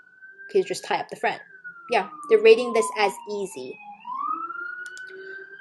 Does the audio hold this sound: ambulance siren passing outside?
yes